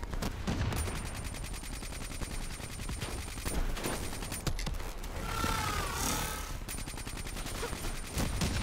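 Steady gunfire from the Call of Duty Black Ops 3 campaign rolls on without a break, dense and fairly quiet, with mechanical clatter and a short whooshing sweep partway through.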